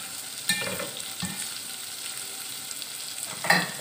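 Dry fruits and nuts frying in a pan for winter panjiri, a soft steady sizzle with a few clinks of a spoon against the pan, close and fairly quiet, no speech.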